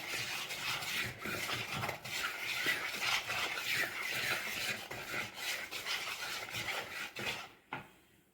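A spoon scrapes and rasps steadily through semolina batter mixed with jaggery syrup in a pot while making ravayappam, a continuous close rubbing and stirring that stops abruptly near the end.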